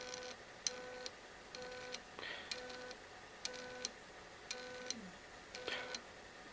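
A stepper motor driven by a PIC16F628 and a rotary encoder steps in short bursts, each a faint ticking whir with a brief tone, repeating about every half second to second at close range, with no talking.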